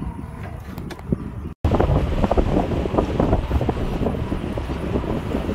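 Strong wind buffeting a microphone during a ride through a valley, a loud roaring rumble that cuts out briefly and returns, continuous and heavy.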